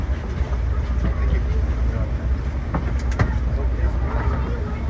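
An automated terminal train at Denver International Airport runs steadily through its tunnel between the main terminal and the C gates, with a continuous low rumble, rail clatter and a few sharper clicks, close and loud throughout.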